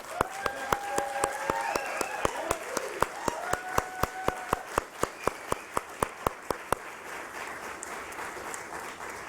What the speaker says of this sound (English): Certainly worthy of a round of applause